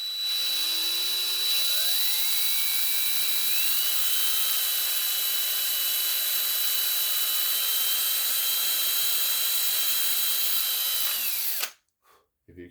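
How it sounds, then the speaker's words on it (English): A power drill bores into a plastic G.I. Joe Classified mission control panel toy, a steady close whine ramping up in pitch over the first few seconds, running continuously for about eleven seconds before cutting off abruptly. "And we'll take our drill here, and be careful not to drill through your finger on the other side."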